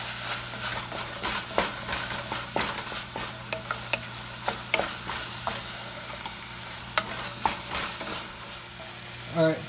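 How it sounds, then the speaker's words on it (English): Onion and ginger garlic paste sizzle steadily in a pan while a spoon scrapes and clacks against it in irregular strokes, close up. "we need to keep frying this onion and ginger garlic paste mixed"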